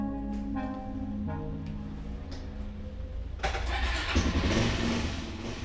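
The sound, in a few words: motorbike engine starting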